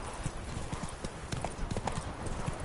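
A horse's hooves clip-clop in a steady, fairly close rhythm as it is ridden, with a faint whinny or voice briefly in the mix.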